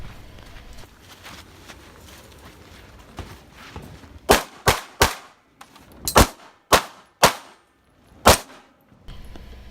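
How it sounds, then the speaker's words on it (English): Rifle and pistol fire during a 2-gun competition stage: faint movement and shuffling at first, then a string of about eight loud, sharp shots in an uneven rhythm, some closely spaced, with steel targets clanging. "I chose to engage the 6 paper targets in front of me with rifle before discarding it and finishing out the rest of the stage with my pistol"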